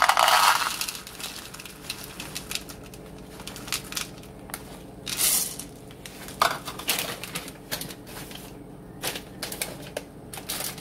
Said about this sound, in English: you're going to add 1 cup of chocolate chips and 1 cup of peanut butter chips